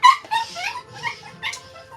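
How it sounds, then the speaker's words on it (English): Dogs yip and whimper in several short, high-pitched bursts, close and moderately loud in a quiet room. "Dogs are going crazy."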